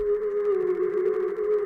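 A harsh, distorted synth note from FL Studio played without EQ, one steady buzzing tone held for under two seconds, loud and alone.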